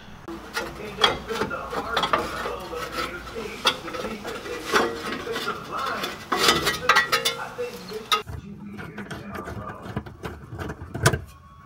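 Ratchet loosening the bolts on an exhaust heat shield under a junkyard Buick, busy metallic clicking and clanking up close, in uneven bursts with brief louder knocks, then tapering off near the end.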